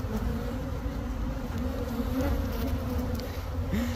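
Honey bees buzz steadily at an open hive during a queen release, a dense, continuous hum close by with no talk over it.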